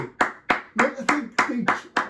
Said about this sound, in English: Are they clapping for Joe or my song?